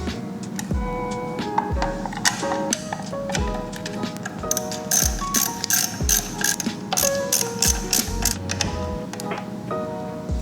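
A ratchet clicks repeatedly in quick bursts as bolts are snugged onto a DK Customs chin spoiler bracket on a Harley-Davidson Iron 883 motorcycle, with metallic taps between strokes.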